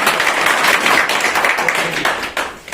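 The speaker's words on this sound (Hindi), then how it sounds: "जोरदार ताली दें।" A crowd at a public gathering in Kishtwar breaks into loud, continuous applause lasting a few seconds, with dense overlapping claps that taper slightly toward the end.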